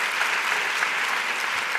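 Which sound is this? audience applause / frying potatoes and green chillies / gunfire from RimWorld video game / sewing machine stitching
audience applause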